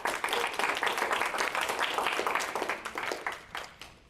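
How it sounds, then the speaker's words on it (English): A club meeting audience claps steadily for a speaker after her evaluation, a dense patter of many hands that holds for several seconds before tapering off near the end. "Round of applause for Astrid, please."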